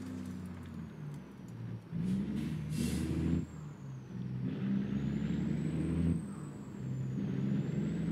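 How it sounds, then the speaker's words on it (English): Cab-over truck with a CAT C15 diesel engine in American Truck Simulator, hauling a short trailer. A deep engine drones steadily and close, rising and falling as it revs, with a brief hiss of air brakes. "the truck's running a CAT engine, a C15"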